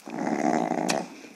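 A dog growls low and steady, close by, in one continuous rumble of a bit over a second with no other sounds.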